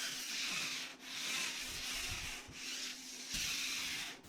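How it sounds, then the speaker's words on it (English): A round sander on a pole scuffs a painted surface in steady back-and-forth strokes, a continuous close rasping rub with a brief dip at each change of direction. "I like using a round sander and a pole like this one"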